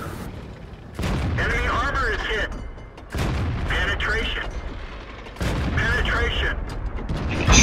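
Tank cannon shots in World of Tanks, the T69, three heavy blasts spaced a couple of seconds apart, each with a loud sustained rumble and mechanical clatter, with players talking over them.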